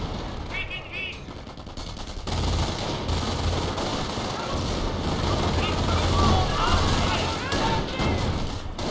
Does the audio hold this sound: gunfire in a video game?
yes